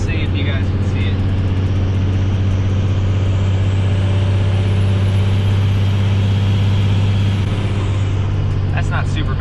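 A hotshot truck engine pulls up a hill in fifth gear at 1800 RPM, a loud, steady low drone heard from inside the cab throughout, with someone talking over it.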